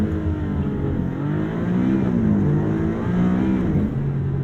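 A 2022 Maserati MC20 holds a loud, steady engine drone at high revs on launch control from a standstill, the pitch wavering and climbing slightly as it strains for traction, close and continuous with no talk.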